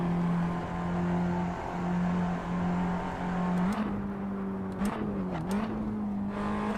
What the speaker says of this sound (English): So weird how this engine sounds nothing like a Formula engine.